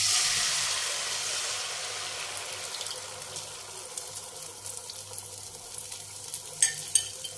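Egg batter hits hot mustard oil in a pan on medium flame, producing an initial loud hissing sizzle that gradually softens into a quieter, crackly fry with a few sharp pops near the end.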